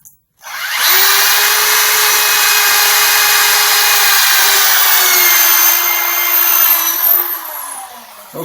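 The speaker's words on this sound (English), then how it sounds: "I'm going to go ahead and drill these holes so you don't have to wait" A power drill bores holes for a homemade radiator protector tool, starting with a sharp rise into a loud, steady high whine that holds for about seven seconds before winding down, heard up close with no talking.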